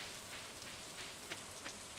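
Rain falling in a video game, a faint, steady hiss of dense droplets with a few slightly louder pattering bursts, continuous throughout.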